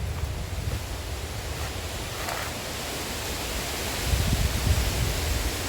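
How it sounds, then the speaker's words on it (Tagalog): Strong wind roars in a continuous broadband rush, buffeting harder toward the end, with no voices. "Grabe ang hangin, oh."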